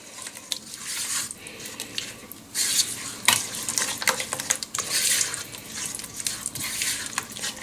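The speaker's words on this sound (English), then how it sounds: "Just give that a stir." Chili being stirred in a pot with a spoon, giving repeated scraping and clinking strokes over a light bubbling sizzle, close up and without speech.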